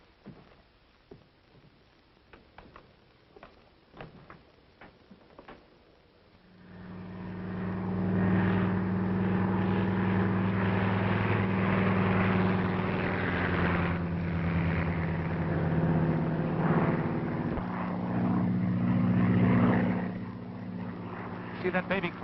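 A propeller airplane's engine from a 1941 action film swells in after a few seconds of quieter talk, then holds a loud, steady droning roar with a rising and falling pitch until near the end.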